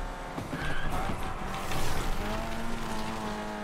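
A car engine revs and tires squeal in the street-racing game Need for Speed Unbound, a loud close roar with a rising pitch and a brief squeal, heard with no talk over it.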